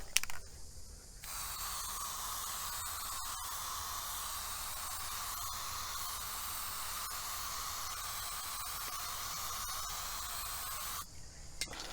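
Aerosol fixative hisses steadily from a can onto a thick charcoal drawing. The close spray runs unbroken for about ten seconds and is framed by brief handling noises at the start and end.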